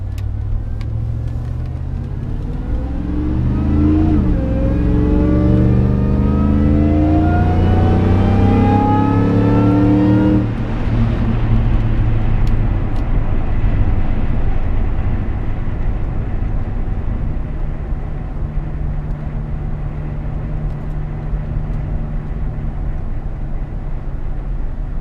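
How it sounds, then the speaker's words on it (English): Supercharged 2005 Chevy Tahoe Joe Gibbs Special Edition accelerating hard, engine roar and a rising supercharger whine sweeping upward through gears for about ten seconds, then settling into a steady cruising drone, recorded inside the cabin. "you can definitely hear the supercharger whining"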